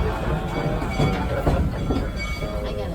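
A Kings Island amusement park train rides backwards into its engine house, giving a steady rumble of rolling cars with faint clicking from the wheels, close and continuous throughout.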